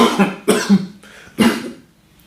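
Three hard coughs, one after another, each a sharp burst with a rough tail, close and fairly loud.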